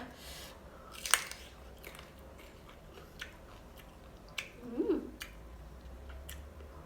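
Crunchy green mango being bitten and chewed close up, a few crisp isolated crunches with quiet gaps, no talking.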